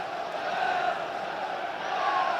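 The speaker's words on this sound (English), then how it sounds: "Crowd again, encouraging their side on" Football crowd at a Sunderland AFC v Swansea City match roaring in encouragement, a dense, sustained wall of voices that swells and holds, mixed with a commentator talking over it.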